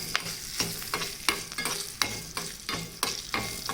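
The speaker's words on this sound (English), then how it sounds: "Let it fry until it is done." Mustard seeds, curry leaves and red chilies fry in hot oil for a tempering, a loud, close sizzle with popping crackles and regular scraping stirs; no voices.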